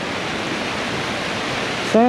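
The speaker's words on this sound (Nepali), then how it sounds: "झरना जस्तै रहेछ" Waterfall beside the trekking trail to Shey Phoksundo, a steady, loud broadband roar of falling water, cut off at the end by a brief voice.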